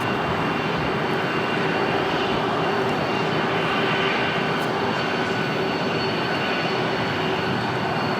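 A heavy airliner takes off from runway 25 right at LAX, a powerful, continuous engine roar that stays loud and close throughout with no speech.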